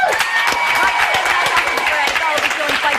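A television talent-show studio audience claps rapidly and densely in a short, loud burst of applause for the judges, with cheering mixed in.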